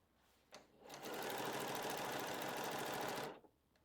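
A sewing machine runs steadily for about two seconds, stitching down skirt fabric, with a dense even whir starting after a brief click and stopping cleanly.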